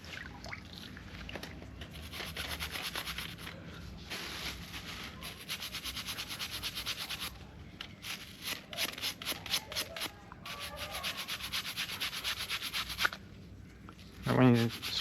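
Abalone shells scrubbed side to side outdoors in Perth, Western Australia, a run of close, rhythmic scratchy rubbing strokes with brief pauses, and a voice speaking partway through.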